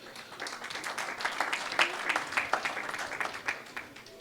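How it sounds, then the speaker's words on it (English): A gala dinner audience claps together in a dense, fairly close burst that swells in the middle and stays steady to the end. "A round of applause for all of you."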